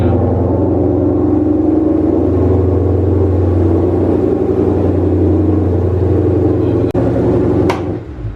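A 2020 Shelby GT500 rumbles steadily at night on a highway, a loud, deep engine drone holding close and constant, broken by a sharp click near the end before the roar eases slightly.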